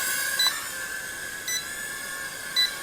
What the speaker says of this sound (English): Now on low battery, notice that it starts to beep.